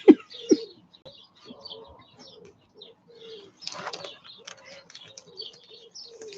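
Small birds chirp in short, scattered tweets near the listener, with a couple of louder flutters or calls at the start and a brief denser burst midway.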